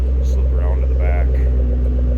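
A 2008 Ford Mustang Shelby GT500 with a 6-speed manual idles with a steady, deep, throaty rumble, continuous and close, with a faint voice briefly audible over it.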